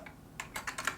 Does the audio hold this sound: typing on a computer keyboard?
yes